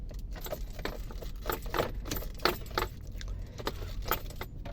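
A key rattling and jangling on its ring while being turned in the ignition of a Toyota Innova Crysta with a faulty ignition cylinder, close and clear, a string of small metallic clinks.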